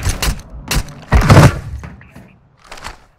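Video game gunfire: a few loud, sharp shots and thuds in uneven bursts, close by, separated by quieter gaps with faint background game sounds.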